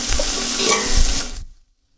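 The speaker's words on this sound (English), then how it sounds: "Straight in with the steak. That's the sound we want to hear." Loud, close sizzling of meat searing in a hot pan, a steady crackling hiss that cuts off abruptly.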